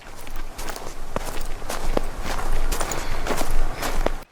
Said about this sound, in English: As you go north, where it is colder, the snow is more crunchy underfoot.